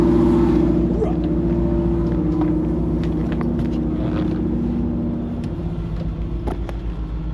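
A loud engine on an old 70-foot yacht rumbles and drones steadily up close, with a deep, constant throbbing tone.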